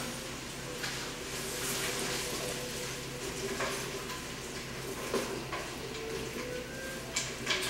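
Onions cooking down in a pan for French onion soup, stirred with a soft steady sizzle and occasional scraping, close and fairly quiet, with no talking.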